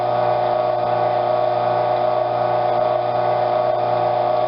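A freeze dryer's vacuum pump running while Skittles are freeze-dried, giving a loud, steady mechanical hum with a constant whirring drone that does not change.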